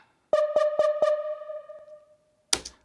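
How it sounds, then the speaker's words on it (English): Four quick, bright pings strike in a fast even burst, their tones ringing and fading together, then one sharper noisy hit lands alone a moment later. "I've got these ping sounds, and they're basically doubling what the percussion's doing"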